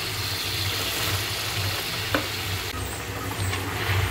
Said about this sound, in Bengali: এখন আমি এই যে কেটে রাখা শাক দিয়ে দিব, পালং শাক